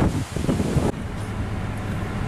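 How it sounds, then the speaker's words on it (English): Wind gusting outdoors near Cabazon, a steady broadband rush with low rumble, loud at first, then dropping to a quieter steady blow after a sudden change. "It's kind of windy outside"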